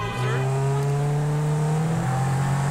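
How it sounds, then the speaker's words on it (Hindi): A sports car engine in GTA V revs with a steady, tonal exhaust note that climbs in pitch while accelerating, loud and continuous, with someone talking over it. "थोड़े से एक्सीलरेटर में भाई आवाज़ सुन रहे हो, क्या आवाज़ कर रही है गाड़ी"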